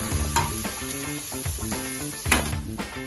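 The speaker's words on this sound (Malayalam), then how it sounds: "ഏകദേശം നമ്മുടെ ഉള്ളിയെല്ലാം വഴറ്റി ഒരു ചെറിയ കളറൊക്കെ വ്യത്യാസം വന്ന്" Sliced onions sauté in a hot pan for a crab roast, giving a steady close sizzle broken by occasional scraping stirs of a spoon against the pan.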